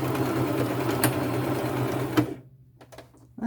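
A sewing machine stitches a strap onto the side seam of a vintage lace crossbody purse, running as a steady, close whir for about two seconds before stopping, followed by a few faint clicks and a brief restart.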